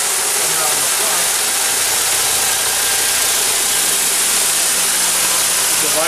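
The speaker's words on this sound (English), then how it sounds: "This is a vibrator motor." A vibrator motor on a Tipton metal polishing machine runs with a loud, constant rumbling roar that stays even from start to finish.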